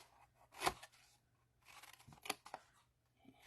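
Scissors snip cardstock straight along score lines and notch in at the squares: a few sharp, close cuts with crisp rustling of the card between them, quiet overall with no talk.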